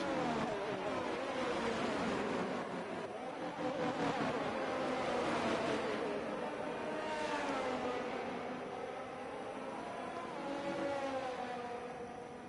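A Formula 1 car in an F1 racing game sweeps through the final corner at Abu Dhabi, its engine droning steadily and loudly with shifting pitch throughout, with no talk.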